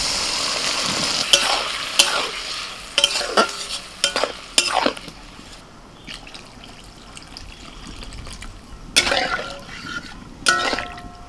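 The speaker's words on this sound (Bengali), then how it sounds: "এখন এর মধ্যে দিয়ে দিচ্ছি সিদ্ধ করে রাখা মুগের ডাল।" Boiled moong dal goes into a pan of bottle gourd frying with salt and turmeric, giving a low sizzle broken by sharp spoon scrapes and wet stirring bursts at irregular intervals.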